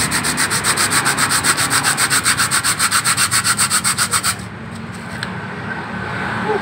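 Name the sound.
sanding a motorcycle clutch part with coarse sandpaper on glass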